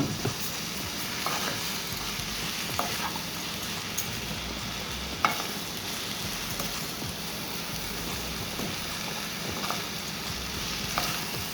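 Rice stirred into an okra mixture in a pan for vegan okra rice, a continuous close sizzle with light scraping stir strokes and occasional clicks, no voices.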